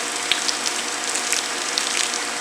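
Water splashing and gushing steadily while a wild mustang is washed down, a continuous close wet rush with small spattering bursts and no voices.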